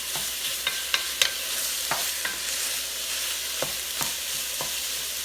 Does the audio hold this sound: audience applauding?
no